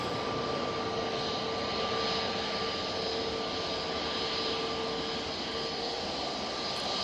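EasyJet Airbus A320neo jet descending to land at Manchester Airport, a steady distant engine roar and whine holding evenly for several seconds.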